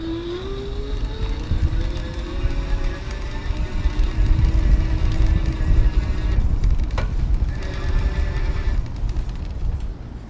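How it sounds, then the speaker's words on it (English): A Pedego Miniceptor 24-inch step-thru e-bike motor runs on pedal assist level 1, giving a thin, rising electric whine that holds steady over wind and road rumble, moderately loud and continuous. "Listen to the motor."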